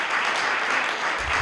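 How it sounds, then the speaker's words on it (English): Audience applause fills a hall at a Yale museum event after a musical performance, a steady loud wash of many hands clapping throughout. "Another round of applause, please"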